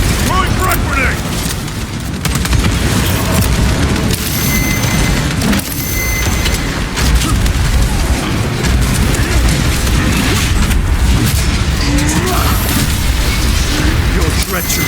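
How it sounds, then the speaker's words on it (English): Frag grenade blasts and heavy gunfire in a Warhammer 40,000: Space Marine 2 battle, a dense and continuous roar of booms and impacts with combat voices mixed in. "Throwing frag grenade!"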